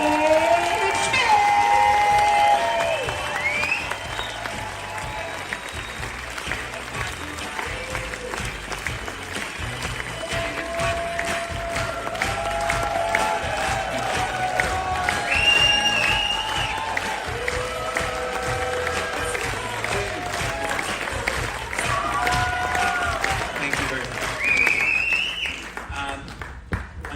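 Audience applause and cheering for David Schmidt taking the stage at a LifeWave event aboard a Greek cruise, sustained clapping mixed with whoops and crowd noise with music underneath throughout.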